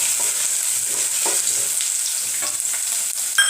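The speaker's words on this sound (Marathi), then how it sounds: "आता टाकूया हे कच्चे शेंगदाणे. ते पण छान असे तळून घेऊया." Raw peanuts fry in a pan alongside cooked potato, a loud continuous sizzle with soft stirring scrapes and a sharper clink at the very end.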